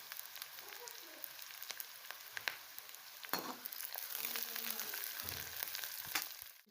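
Chopped onion and green chili sizzle and fry in hot oil in a pan, a steady crackling hiss broken by occasional stirring clicks and scrapes, close and fairly quiet.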